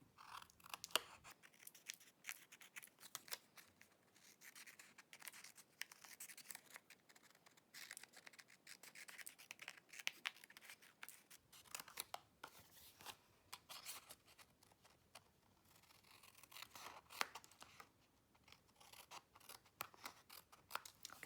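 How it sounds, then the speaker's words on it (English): Scissors trim excess paper from a crafted piece, snipping in quick, close, crisp cuts that run steadily with faint rustling paper between them. "Now I'm just going to flip this over and trim off all the excess."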